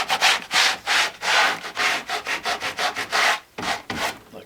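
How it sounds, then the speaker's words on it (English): Sandpaper rubs lightly over an HO scale model railroad track embankment in quick repeated back-and-forth strokes, close and loud, with no talking. "just sand it lightly like so"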